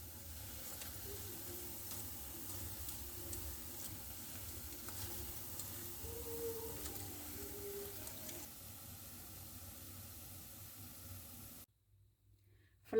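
Falafel frying in oil makes a soft, continuous hiss and crackle with faint bubbling that cuts off abruptly near the end.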